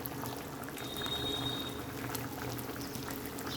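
A hot tempering is poured into boiling sambar dal, giving a continuous bubbling, frothy boil with a brief thin sizzle near the start, close and fairly quiet, with no voices.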